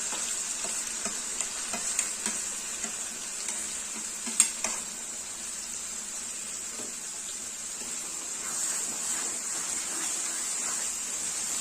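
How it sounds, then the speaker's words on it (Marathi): A ground masala paste for village-style egg curry sautés in oil with a steady, soft hiss and sizzle, broken by occasional faint spatula scrapes and one sharper clink, heard close and fairly quiet. "हे जे वाटण आहे ते आपण इथे छानसं परतून घेणार आहोत"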